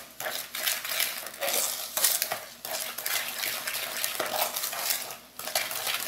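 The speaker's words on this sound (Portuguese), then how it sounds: "Vou mexer aqui." A utensil scrapes and knocks against a pot while a homemade soap mixture is stirred over the heat, giving irregular rhythmic swishes and metallic clinks close up, with short pauses between strokes and no talking.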